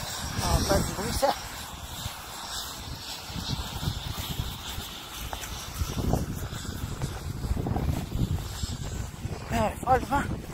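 Strong, violent wind on Remembrance Day buffets the microphone in rough, roaring gusts, loud and close, while someone speaks over it.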